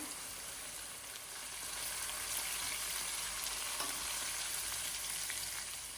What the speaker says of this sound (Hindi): आंच को दरमियानी करके हरी मिर्चों को पका लेते हैं।